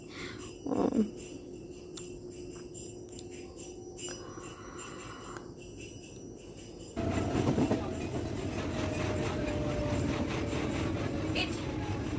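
Steady rumbling of a moving train heard from inside a carriage, a continuous broadband roll with a brief louder bump early on and the noise growing heavier and denser partway through, carrying on throughout without a break.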